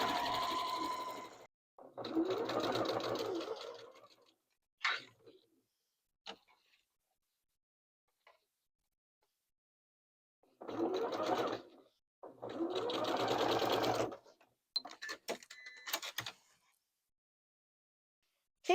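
A domestic sewing machine stitches a quarter-inch fabric seam in two separate runs of steady, rapid mechanical whirring, each made of short bursts, with near silence between them.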